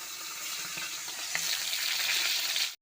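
Boga fish frying in hot oil, a dense continuous sizzle with faint crackle, close and steady throughout before cutting off abruptly.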